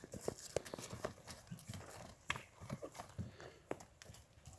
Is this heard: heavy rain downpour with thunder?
no